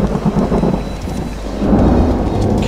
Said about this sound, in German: Keine Gewitterwolken zu sehen, aber Donner